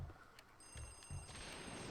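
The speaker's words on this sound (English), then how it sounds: "Wait, which fucking phone is ringing?" A telephone rings in the video game Luigi's Mansion, a steady electronic bell tone sustained over low thumps and background game noise, moderately faint.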